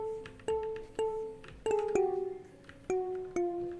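Marimba notes clicked on the Bongo Cat website ring out as seven separate bright tones, roughly a half second apart. Each note is loud and close with a clear attack and a short decaying ring, and no voice is heard.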